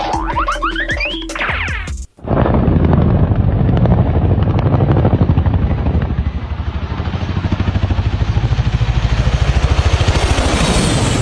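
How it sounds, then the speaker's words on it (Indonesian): A Chinook twin-rotor helicopter roars loud and steady, its dense rotor thump and engine noise continuing without letup after a brief cut near the start, preceded by a short burst of musical sound. "Helikopter Chinook."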